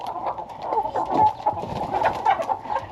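Several chickens cluck and murmur continuously around a no-spill feeder holding about 150 pounds of feed, a close, busy flock chorus of overlapping soft calls with no talking.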